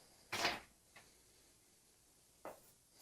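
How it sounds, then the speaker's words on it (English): A garage door shutting, with one sharp close followed by a faint small tap and then a second, softer thud a couple of seconds later, all fairly close in a quiet room. "I'm going to close that door."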